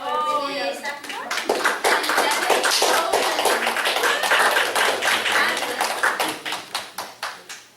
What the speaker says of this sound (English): round of applause for Oh, Renee yes. Saklikar.